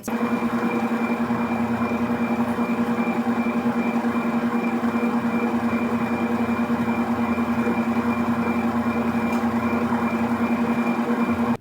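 An electric mixer beats egg whites with a steady, even whir to stiff peaks while making coconut macaroons, holding constant and close with no talking.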